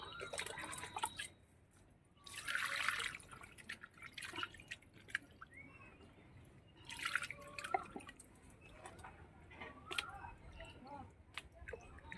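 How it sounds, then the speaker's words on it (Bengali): Raw chicken pieces being washed in water and left to drain in a home kitchen, with faint dripping, splashing and squelching handling sounds in quiet, close surroundings. "আমি মাংসটা ধুয়ে তারপরে জলটা ঝরিয়ে রাখি"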